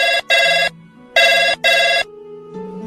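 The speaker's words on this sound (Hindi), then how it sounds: "तभी फोन की घंटी बजी।" Telephone ringing indoors, four loud electronic bell bursts in two pairs, each pair of rings followed by a short pause, clear and close with nothing else over it.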